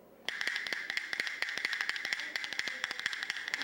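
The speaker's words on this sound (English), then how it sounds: "Then when you twist your hand back and forth, it makes the bones sound like this." Rapid clacking of cow rib bones played as percussion, a galloping rattle of dry clicks rolling steadily and fairly loud, with no voices.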